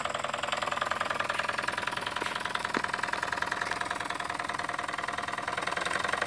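A Jensen No. 5 live steam engine with a new chimney drives a small generator, giving a steady, rapid mechanical chuffing and whirring that runs evenly throughout at close range, with no voices.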